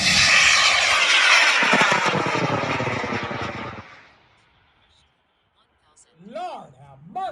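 A high-power hobby rocket motor ignites with a loud, close, broadband roar that fades away over about four seconds into near silence, followed by excited voices.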